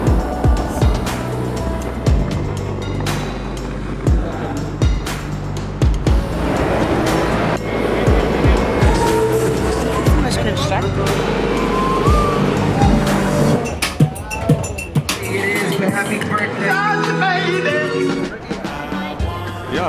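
A car carrying passengers to the airport drives along with a loud, steady road and engine rumble and wind noise, with faint voices inside.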